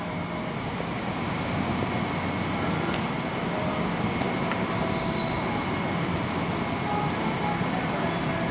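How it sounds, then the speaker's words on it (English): A train rumbles past directly below, steady and close, with two high metallic wheel squeals rising over the noise partway through. "I'm gonna film the train going right underneath me."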